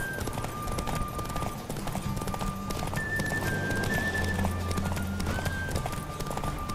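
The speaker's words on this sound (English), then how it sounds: "Don't spare the horse!" A horse gallops in The Witcher 3 video game, hooves drumming in a fast steady rhythm under game music with a sustained tonal line, continuous and fairly close throughout.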